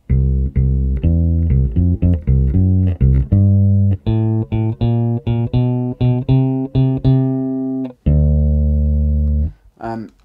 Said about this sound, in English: So I'm going to play that 2 bar pattern that is quite tricky at first.